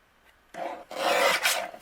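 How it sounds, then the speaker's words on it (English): A paper trimmer blade slicing through cardstock, heard as a short rasping cut, then a longer close, loud scraping stroke that ends in a sharp click. "we're going to bring in our paper trimmer"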